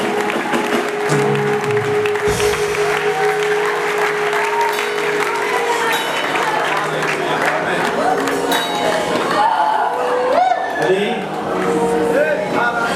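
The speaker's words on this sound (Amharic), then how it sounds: "አጨብጭቡ ለጌታ።" Congregation clapping loudly and steadily throughout a church revival service, a dense sustained wash of applause mixed with cheering voices and talk.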